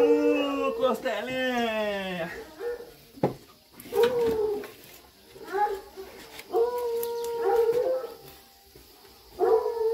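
A farm dog barks and howls on a rural property, drawn-out howls and whimpers alternating with short barks, fairly close, with birds and a voice nearby.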